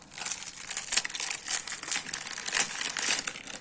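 Plastic packaging around a Farmasi magic sponge crinkles and crackles as it is torn open by hand. The rustling is close and irregular, with repeated sharp crackles throughout and no talking.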